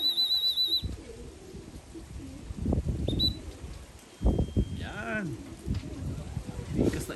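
Racing pigeons coo softly and intermittently nearby while people talk and a high electronic beeping sounds in the background.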